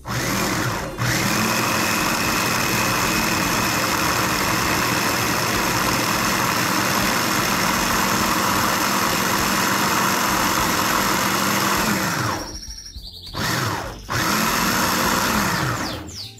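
A kitchen blender or chopper runs steadily, loud and close, mincing fresh cilantro with chili for shrimp ceviche, with a brief stop and restart near the end.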